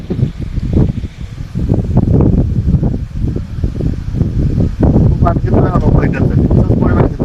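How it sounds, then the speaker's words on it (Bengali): Strong wind blows outdoors under a heavily clouded sky in Sreepur, buffeting the microphone in loud, low, gusting rumbles that swell and fade throughout, with a voice faintly present beneath it. "বাতাস হইতেছে কিভাবে দেখা ওই পাশে বাতাস দুপাশে বাতাস"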